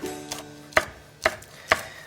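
A knife chopping Cheongyang chili peppers on a cutting board, with four crisp, sharp knocks spaced roughly half a second apart, close and clear with no talk.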